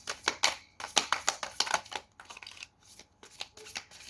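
Tarot cards are shuffled by hand in crisp riffling bursts, several quick flutters in a row followed by softer, sparser shuffling. The sound is close and moderately quiet, with no talking.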